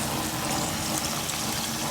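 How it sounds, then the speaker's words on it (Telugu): Plain water pours into a chicken curry cooking in a pan, a steady close rushing splash that fills the whole stretch without pause or voices. "ఇప్పుడు మనం నార్మల్ వాటర్ పోసుకున్నాం"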